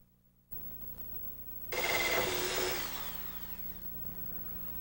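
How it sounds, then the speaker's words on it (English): A power drill bores a hole into the face of a door, a short burst of whirring and grinding that starts abruptly, peaks, then tapers off into a faint hum, fairly quiet, with no talking. "All right, now that we've got our hole drilled,"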